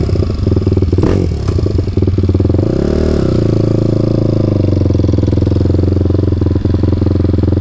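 A Kawasaki KFX450R ATV engine with modified jetting runs loud and close at about quarter throttle, a steady throbbing rumble with a brief rev rise early on.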